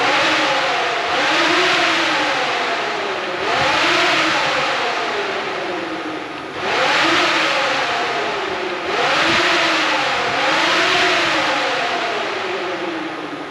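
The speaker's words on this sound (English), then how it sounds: "as that fly-by-wire throttle's trying to calibrate, going fully open and fully closed, it's actually powering the fans as it does it" Radiator fans on a bagged panel van with a boosted iron-block LS engine, powered as the fly-by-wire throttle calibrates fully open and closed; a steady loud whirring drone with rhythmic swells repeating every few seconds, no talking.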